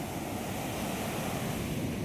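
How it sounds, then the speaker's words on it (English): Arabian Sea waves break on the beach at Varkala, making a steady, close roar of surf with continuous broadband wash and a little wind. "as the water of the waves come and touch my wonderful feet"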